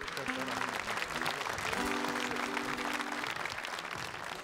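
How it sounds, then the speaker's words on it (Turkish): A concert audience applauds continuously, a dense wash of clapping, with sustained music notes and an announcer's voice faintly underneath. "Alkışlar, alkışlar, alkışlar."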